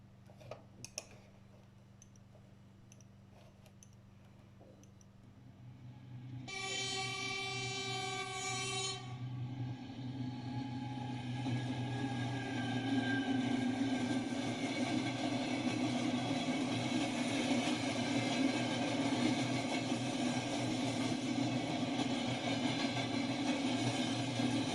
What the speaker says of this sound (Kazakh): Осылай пойыздың дыбысы осылай шығады екен